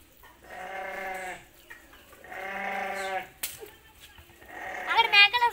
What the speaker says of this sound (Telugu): అక్కడ మేకలు వస్తున్నాయి చూడండి